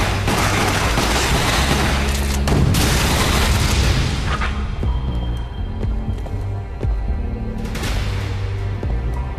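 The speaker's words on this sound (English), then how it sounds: "What was that? Machine gun." Machine gun fire in the video game Resident Evil Umbrella Chronicles, dense loud bursts and booming impacts in the opening seconds, thinning into scattered shots and softer rumbles before one more sharp burst late.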